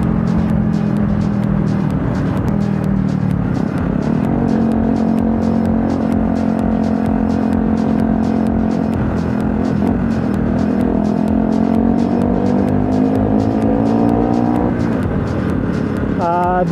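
Motorcycle ride through road traffic on a Rouser RS200 or KTM RC200, the bike's engine droning loud and close with rising and falling revs as gears shift, steady wind and road noise beneath.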